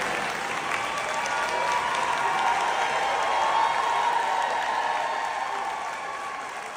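A rally crowd in a conservative county claps and cheers in a sustained, dense wash of applause that swells slightly and then begins to fade, heard from within the audience.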